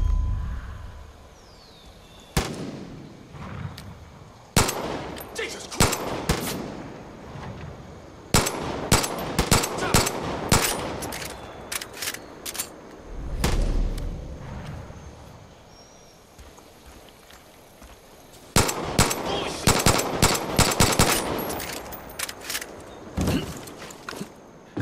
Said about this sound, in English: Shoot down those vultures.